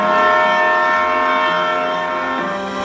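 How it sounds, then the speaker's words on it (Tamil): A passenger train horn sounds in one long, steady blast that gradually fades, heard from some distance. "தூரத்துல ஒரு பேசஞ்சர் ரயில் கூவுற சத்தம் கேக்குது"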